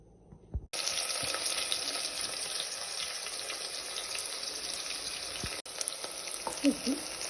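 Onions fry in oil in a pan on the stove, a loud continuous sizzle that starts abruptly and holds steady for several seconds, with one brief dip near the end.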